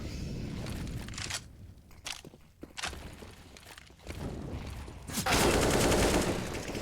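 Counter-Strike gunfire on the Overpass map, SMGs and AK rifles against pistols, as rapid bursts and single shots break out amid footsteps, growing into heavy sustained fire near the end.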